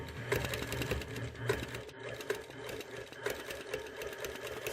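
A sewing machine stitches slowly along a ruler line, its needle thumping in a quick, even rhythm with short pauses and a soft motor hum underneath, close and fairly quiet.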